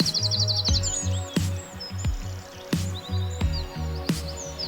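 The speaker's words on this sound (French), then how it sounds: "Réponse, une mésange charbonnière." Great tit song in a garden: repeated clear, high two-note phrases ringing out alone over a low steady hum, with a few sharp clicks spaced through the passage.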